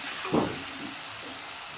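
A paste of garlic, ginger, dry red chilli and cumin sizzles in a hot pan, a steady, close, bright hiss with a brief louder burst as it hits the oil, no voices.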